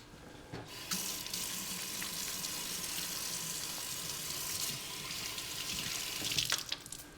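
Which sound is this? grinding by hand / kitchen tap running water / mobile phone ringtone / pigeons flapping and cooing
kitchen tap running water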